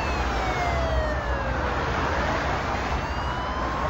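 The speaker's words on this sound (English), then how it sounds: "Another police car, it's about time" A police car siren wails in a video game, its rising and falling tone sweeping steadily over dense, loud engine and traffic noise throughout, with no talk.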